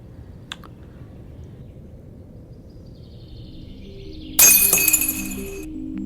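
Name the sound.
glass bottle breaking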